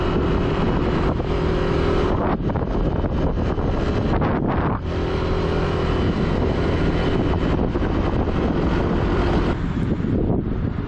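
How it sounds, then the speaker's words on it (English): A motor scooter rides along roads in Ponta Delgada in the Azores, its engine hum buried under heavy, constant wind buffeting against the microphone, with brief dips as the rider slows. "I've been scootering for about 3 minutes"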